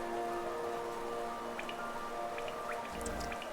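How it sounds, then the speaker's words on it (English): Steady rain in Hollow Knight falls as a constant hiss with soft droplet plinks and drips scattered across it, moderately loud with no talk. "Look down through the rain."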